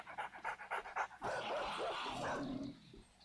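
Dogs in the survival game 7 Days to Die pant in a quick rhythmic series, then break into a loud, close burst of overlapping barks and yips that carries on steadily to the end.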